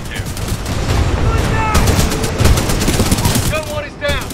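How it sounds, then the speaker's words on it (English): In Titanfall 2, a mounted machine-gun turret fires dense, continuous bursts up close and loud, the rattle layered with whizzing and battle noise for the full stretch. "Cooper, we can't move up while those guns are firing."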